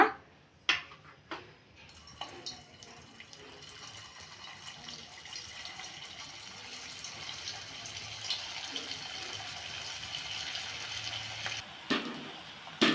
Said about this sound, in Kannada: ಕಾಯ್ದಿದ್ದ ಎಣ್ಣೆ ಇವಾಗ ಈ ಉಂಡೆಗಳನ್ನು ಒಂದೊಂದೇ ಬಿಟ್ಕೊಳ್ಳೋಣ ಮತ್ತು ಲೋ ಫ್ಲೇಮಲ್ಲಿ ಇಟ್ಕೊಳ್ಳಿ